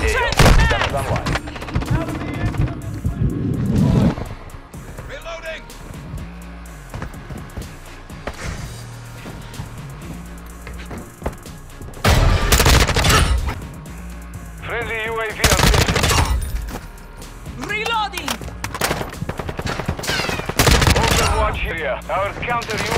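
Heavy automatic gunship fire in Modern Warfare II, loud sustained bursts and booming volleys that come in waves over the first few seconds and again from about twelve seconds on, with radio-style voices talking between them.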